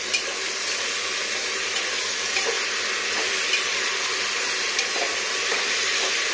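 Arum and mixed vegetables fry and get stirred in a pan with no water added, a steady close sizzling hiss with small scraping clicks from the ladle, no voices.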